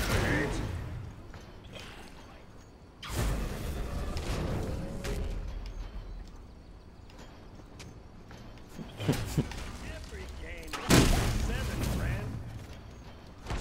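Repeated booming blasts from cannon fire in the video game Smite, several loud bursts at intervals with lighter clatter between.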